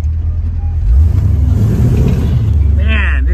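A Chevrolet Nova SS with an LS engine revs hard and accelerates, a loud low engine roar building and holding close by, with a brief higher whine near the end.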